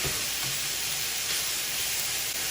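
Chopped onion and beef sizzle together in a single pan for beef stroganoff, a loud, steady, hissing fry that runs without a break and with no talking.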